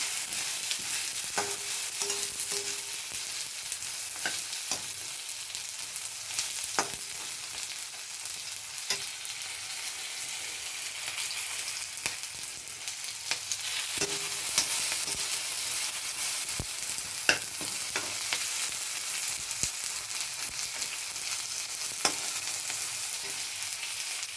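Onions sauté in a pan for a traditional gravy, producing a steady, close sizzle that runs unbroken for over twenty seconds, with occasional light clicks and scrapes from stirring.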